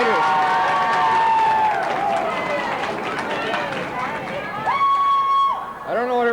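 Crowd at a high school hockey section playoff in an indoor arena claps and cheers over an offside call, a loud sustained roar with clapping throughout, while a commentator talks over it.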